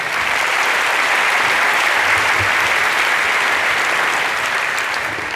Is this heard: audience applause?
yes